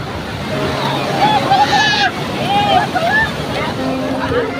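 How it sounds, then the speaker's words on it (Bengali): Sea waves wash continuously onto Puri beach, a steady surf roar with crowd babble and scattered voices over it. "এখানে জাস্ট ঢেউটা দেখুন আপনারা"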